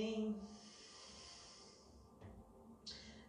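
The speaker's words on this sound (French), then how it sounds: "On expire du nez." A soft, close nasal exhale during a dynamic sun salutation yoga practice, a quiet breathy hiss trailing off, with faint room tone afterward.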